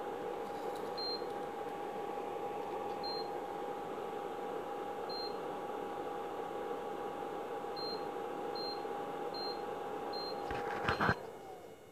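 An induction cooktop under repair, built with a twin LM339 and microcontroller circuit, gives a series of short electronic beeps at uneven intervals over a steady hum, then clicks as it switches itself off.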